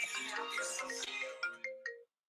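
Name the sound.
phone ringtone, incoming call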